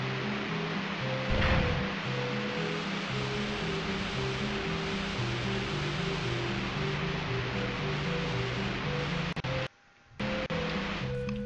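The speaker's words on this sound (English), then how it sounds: "Now it's draining all the water into a moat outside." Water draining out of a pyramid into a moat in Banjo-Kazooie, a steady rushing wash of noise running continuously beneath looping game music, briefly cutting out near the end.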